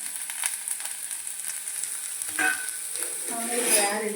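An onion dropped into hot oil, a soft sizzle that swells near the end with light crackling and clinks, fairly close, no speech.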